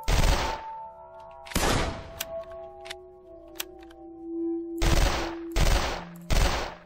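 Video game gun firing in separate loud bursts spread across the clip, with short sharp clicks and pickup-style tones between shots, no talking.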